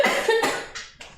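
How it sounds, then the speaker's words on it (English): Several sharp coughs burst out one after another, close and loud, with short gaps between them and no talking. "I'm gonna cough."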